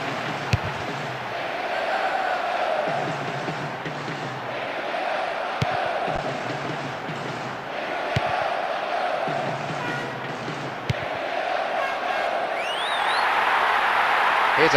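Stadium crowd in a FIFA football video game roars steadily throughout, with waves of swelling noise and a louder surge near the end.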